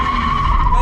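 A car drifting at full throttle gives off a loud, sustained tire squeal with engine roar underneath, close and continuous through the short moment.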